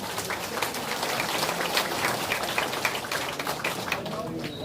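Steady applause from an audience at a Jeju City senior leaders' competition event, a dense wash of clapping that holds at an even level throughout.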